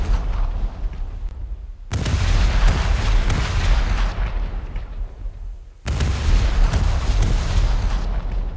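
Big naval guns of HMS Renown firing in a naval video game: two heavy, booming salvos a few seconds apart, each with a long rumbling tail.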